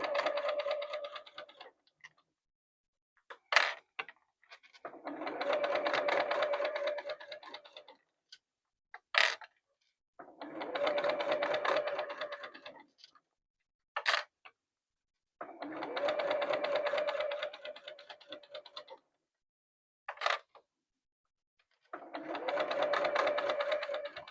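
Sewing machine stitching a zipper pouch, four steady runs of whirring stitching alternating with pauses filled by sharp clicks and small handling taps, close and clear with no talk.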